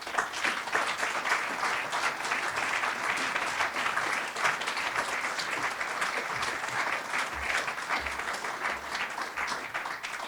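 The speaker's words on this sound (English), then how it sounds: "along with giving him a round of applause" Sustained applause from an audience at an evening celebration honouring battlefield land reclamation, a dense steady wash of many hands clapping that fills the whole stretch without talk.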